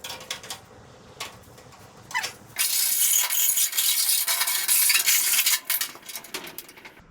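Sheet metal panel being bent in a pan brake during a car restoration: a few sharp metallic knocks and rattles, then a long bright grinding metal rasp before it tails off into lighter clanks, close by with no talk.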